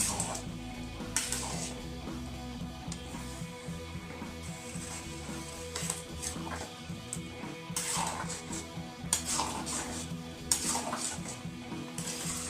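Ghee being stirred into khichuri in a pot, a spoon scraping and clinking against the metal in irregular bursts over a steady low kitchen background, fairly close and moderately loud.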